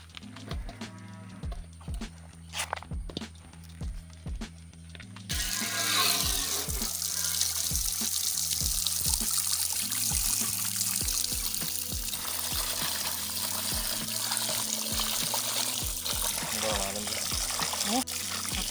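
Running water splashes continuously as chopped beef ribs and tapioca pieces are rinsed, with occasional knocks and handling noises; a brief stretch of quieter clattering comes first.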